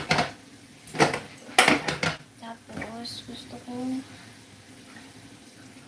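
Water pours into a pan of chicken and potatoes in sauce during home cooking, with clattering of the pan and utensils and a speaking voice over the sounds.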